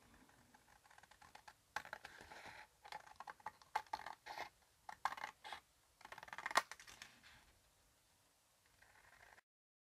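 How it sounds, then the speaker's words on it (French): Scissors cut strips of paper for a handmade card, producing a quiet series of crisp snips and slicing sounds at an uneven pace, close by, then tapering off with no talking. "Donc je vais faire mes bandes directement découpées au ciseau."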